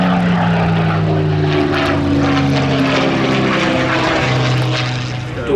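A Supermarine Spitfire of the Battle of Britain Memorial Flight at an air festival display, its propeller engine droning loudly and steadily with shifting pitch as it passes, easing slightly at the end.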